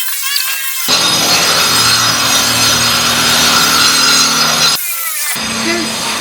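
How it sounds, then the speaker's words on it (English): Power tool work outside, loud continuous grinding buzz lasting several seconds, stopping briefly before starting again, harsh and close. "It's like a drill hammer going on outside."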